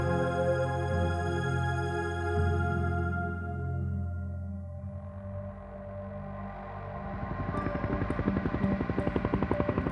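A rescue helicopter in flight over Australia, heading toward the Hunter Valley, gives a steady droning hum that shifts into a rapid, close rotor chop growing louder toward the end, with no talking.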